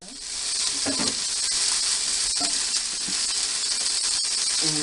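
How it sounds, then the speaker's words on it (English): Pork loin sizzles loudly in hot oil in a pan, a constant bright frying hiss with small pops and a few soft knocks of handling, no voices. "get that little sizzle."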